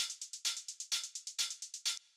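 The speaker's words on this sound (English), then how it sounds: "After that, we have this drum bus" An ethereal techno drum loop run through drum bus processing, with five fat kicks in steady four-on-the-floor time and bright rapid percussion hits between each, dense, compressed and loud, fading in a short tail.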